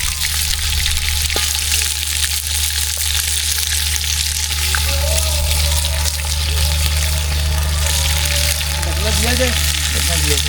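Chicken fries in a kadhai with a constant loud sizzle and hiss, a low steady hum beneath it, and occasional faint clinks.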